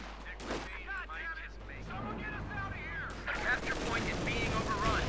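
Battle gunfire from the World War II strategy game Company of Heroes 2 cracks in repeated bursts and booms amid a busy mix, with a commentator talking over the fighting.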